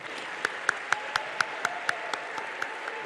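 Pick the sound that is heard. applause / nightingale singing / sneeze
applause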